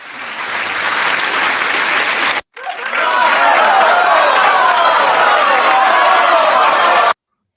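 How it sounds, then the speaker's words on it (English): Loud applause and cheering from a crowd, briefly cut off, then resuming strongly for several seconds before stopping abruptly. "Let's get an applause going for the lack of yelling."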